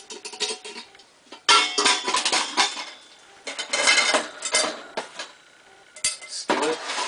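A metal camping tea kettle and nesting cook kit are handled, giving repeated clanks, scrapes and rattles in uneven bursts, close and loud with short quiet gaps between.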